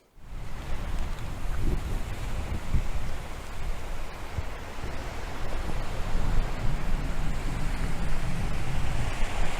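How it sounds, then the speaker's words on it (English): Steady broadband wash of waves breaking on a beach at night, a continuous rolling surf roar with gentle swells in loudness, heard from a short distance behind, no voices. "you might be able to hear the sound of waves breaking from the beach behind me"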